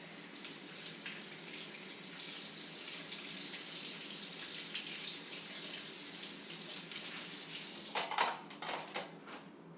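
Tap water runs steadily into large Wawa plastic cups, a continuous hissing splash at close range, ending in a few louder clinks and knocks of handling near the end.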